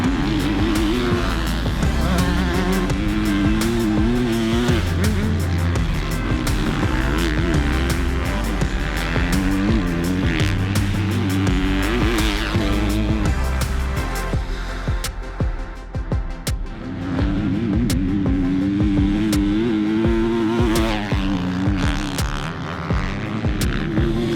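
A 2020 KTM 250 SX-F dirt bike engine revs hard and loud, climbing and falling repeatedly, with a brief dip in the middle before it winds up again.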